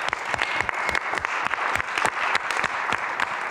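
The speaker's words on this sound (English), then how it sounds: "It's your applause, Martin." Audience applauding after a performance at an artist talk in Salzburg, a steady wash of many hands clapping with sharp individual claps standing out, close and fairly loud throughout.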